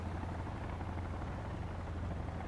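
A helicopter in the survival-horror video game Sons of the Forest gives a steady, low rotor drone with a constant rumbling throb that holds unchanged throughout, fairly quiet and with no talk over it.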